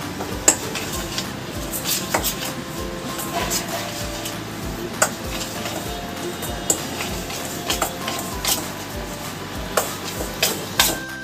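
A spoon stirs semolina and sour curd batter in a bowl, producing rhythmic clinks and knocks against the rim over a soft, wet mixing shuffle, close and moderately loud.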